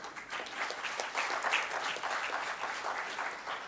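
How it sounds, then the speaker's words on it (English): An audience at an academic symposium gives the speakers a round of applause, many hands clapping in a continuous, even roar from start to finish with no talking. "Give a huge round of applause."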